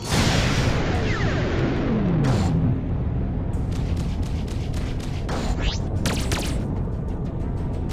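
An incoming missile strikes in the space combat game Freelancer, a loud rumbling blast with sweeping whooshes, followed by several sharp bursts and crackling impacts over a continuous heavy roar.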